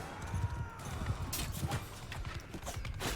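Horse hooves clip-clopping at a gallop in the medieval combat game Mount & Blade II: Bannerlord, a steady rapid rhythm up close amid battle clatter and clashes.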